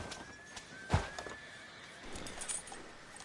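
A horse in the video game Red Dead Redemption 2 gives one short, sharp neigh near the start. Soft hoof clip-clops and quiet background noise follow.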